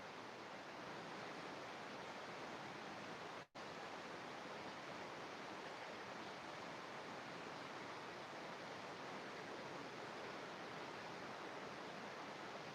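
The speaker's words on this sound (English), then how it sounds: "You just need to tune to the water sound to become silent" Continuous, even rush of flowing water, soft and steady throughout with a single momentary dropout, no voices.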